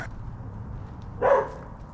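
Dogs bark nearby; one short bark stands out after a quiet stretch, with low background rumble around it.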